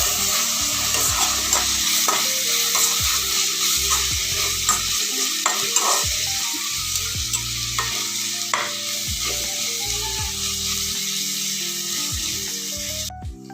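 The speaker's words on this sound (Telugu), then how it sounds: "ఈ విధంగా ఉల్లిపాయని పచ్చిమిర్చి కొంచెం ఫ్రై చేసుకోవాలి" Onions and green chillies fry with ginger garlic paste for an Andhra-style fish curry. A strong, close sizzle runs throughout under repeated stirring and scraping, with a low tonal hum in the background.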